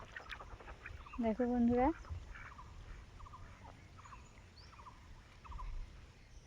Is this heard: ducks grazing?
yes